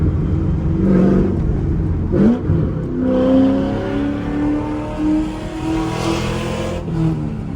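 A straight-piped C5 Corvette with an aftermarket cam revs hard nearby, its loud, choppy exhaust climbing and dropping in several throttle blips with a lumpy, raspy idle between them, no voices.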